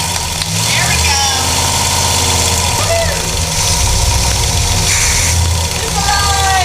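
After priming, a vehicle motor with no cooling system runs with a loud, steady rumbling drone close by, while people talk over it.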